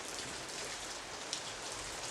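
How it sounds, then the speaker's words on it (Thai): Heavy rain pours steadily and continuously, a dense broadband hiss with no voices over it, as an all-day downpour under a closed, overcast sky. "วันนี้ฝนตกทั้งวันครับเพื่อนๆฝนตกทั้งวันเลย"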